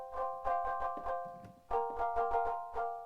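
LordOfTheSprings synth playing with its bowing mechanism, giving sustained tonal notes in pulsing, repeated strokes with a short pause midway, clear and alone.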